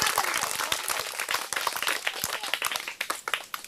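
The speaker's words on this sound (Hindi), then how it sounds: "एक बेर अहाँ सब जोर से ताली मार दिया लड़का से लड़की" A comedy show audience claps loudly and briskly, many sharp, distinct hand claps close by in an uneven, lively patter with no voices over them.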